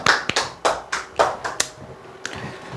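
A handful of sharp, separate claps or hand slaps from a small audience at a talk, roughly seven distinct bursts spaced unevenly with a short pause before the last one, crisp and fairly close, with no voices.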